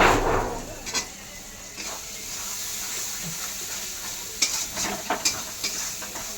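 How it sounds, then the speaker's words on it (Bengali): Spice masala with salt and turmeric fries in oil in a pan for a jackfruit and prawn curry. A steady close sizzle runs throughout, broken by occasional stirring scrapes and clicks, with no talking. "দেখো মশলাটাকে পুরো ভেজে নিচ্ছি"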